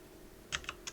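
A few quick, close keystrokes tap on a computer keyboard while text is typed into Photoshop, with three or four clicks alone over a quiet background hum.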